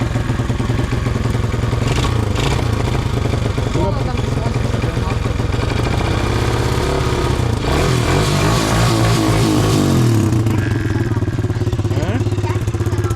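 Loud, close pit bike engine running and revving, a constant rough mechanical drone rising and falling in pitch, with people talking over it.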